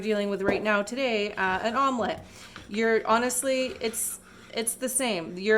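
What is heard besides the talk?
No distinct noise like a dog, phone or traffic.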